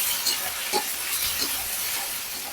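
Shrimp dropped into a hot pan with garlic and cumin paste, giving a steady close sizzle and hiss with a few soft stirring knocks.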